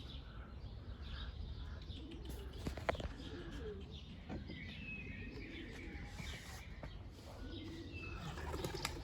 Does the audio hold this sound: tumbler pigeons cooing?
yes